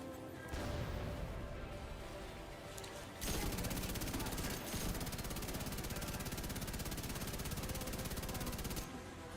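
Rapid, sustained light machine gun fire from a gold LMG in The Division 2 starts within the first second and grows louder and denser partway through, then continues as a nearly unbroken roar before cutting off near the end.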